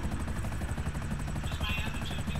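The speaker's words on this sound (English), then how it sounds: "I'm telling you, that's your fucking helicopter right there, dude. The Akula, that is you." Akula attack helicopter in GTA Online, a steady thrumming rotor chop with a whining engine layer, continuous and fairly loud throughout with no talking.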